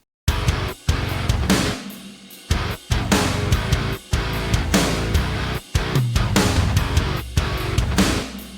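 Heavy distorted metalcore guitar chugs with pounding drums in loud bursts, broken by several abrupt short pauses of silence.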